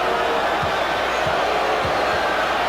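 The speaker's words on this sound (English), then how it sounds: "An ovation for Charles Smith as he is replaced by Anthony Mason." Arena crowd at a 1993 NBA playoff game between the Bulls and Knicks gives a sustained ovation for Charles Smith as he leaves the court, a steady loud roar of applause and cheering filling the whole stretch.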